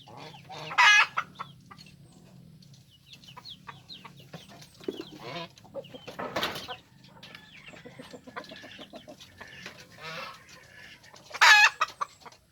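A Kelso breed chicken clucks close by in scattered bursts, including a few loud, sharp squawks at the start and end, over a low background hum.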